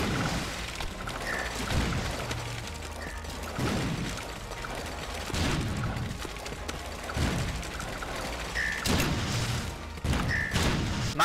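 Rockets exploding in the Super Meat Boy video game, recurring dull booms and thuds spaced every second or two over continuous game music and effects, no talking.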